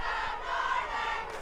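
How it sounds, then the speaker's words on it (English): Crowd noise at a high school football game as cheerleaders fire up the stands, a steady, dense roar of many voices at moderate distance, continuous throughout with no single voice standing out. "You hear the cheerleaders getting the crowd fired up"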